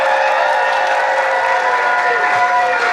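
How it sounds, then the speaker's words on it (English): Convention audience applauding for an actor at a Rhode Island comic con, a dense steady wash of clapping filling the whole stretch at close range. "how about one more round of applause for Matthew Lewis?"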